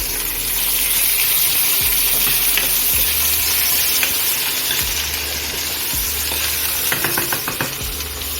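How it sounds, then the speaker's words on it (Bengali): Chopped onion fries loudly in hot oil with bay leaf and dried red chilli, a constant close sizzle broken by repeated scraping stirs and clicks of the spoon against the pan. "পেঁয়াজ কুচোটা ভাজা ভাজা হয়ে এলে"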